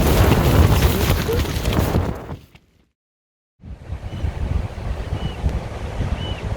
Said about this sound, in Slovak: počas výchrice s nárazmi vetra cez 100 km za hodinu